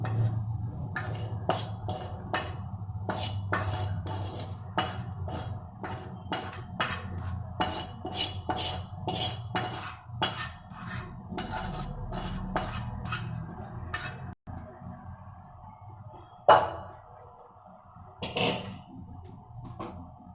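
Chopped onion and chili being mixed into paniyaram batter in a pot, with rapid clinking and scraping of a spoon against metal, steady and close, then sparser knocks near the end.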